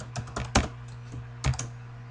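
Computer keys clack in short, irregular clusters, a few strokes louder than the rest, while a word is typed into MATLAB. The typing is close but fairly quiet over a steady low electrical hum.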